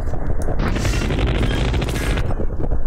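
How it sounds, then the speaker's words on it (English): A minigun in Totally Accurate Battle Simulator unleashes a loud, continuous stream of rapid-fire shots that builds into a dense roar for about two seconds, then cuts off. "Jeez, the minigun unit."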